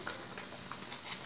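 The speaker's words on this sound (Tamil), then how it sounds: "பாருங்க குழம்பு கொதிச்சிருச்சு" Lentil dumpling gravy (kuzhambu) bubbling at a steady boil in a pot, with a soft, continuous simmering hiss and faint popping, quiet and close, no voices.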